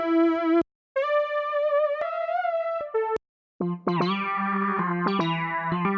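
A bright Tracktion Retromod Fat synthesizer lead plays held notes and short phrases with brief silent gaps, its buzzy tone thickened by chorus and distortion.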